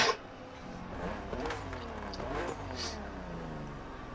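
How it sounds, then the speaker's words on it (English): BMW M2 CS engine revving in the racing video game The Crew Motorfest, a steady close engine drone with rising and falling pitch sweeps, moderately loud throughout. "BMW M2CS, a legend in the making."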